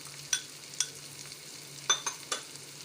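Onions fry in a pan for aloo gobi, with a faint steady sizzle and several sharp clinks of a spoon stirring and scraping at irregular intervals, no talk.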